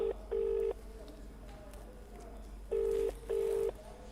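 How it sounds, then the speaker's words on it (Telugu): Telephone keypad tones as a number is dialed to call someone's father, four clear beeps in two pairs, near and fairly loud, with faint background noise between them. "ఎస్ శ్యామ్ వాళ్ళ నాన్నగారికి ఫోన్ చేస్తున్నాం."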